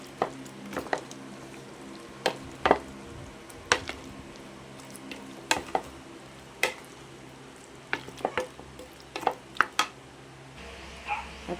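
A utensil stirs beaten egg mixture with anchovies for tortang dilis, giving a run of sharp clinks and taps against the bowl scattered over a low, steady background, close and fairly quiet.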